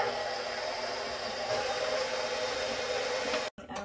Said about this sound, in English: We're gonna attach our whisk and we're going to whisk this until we have stiff bake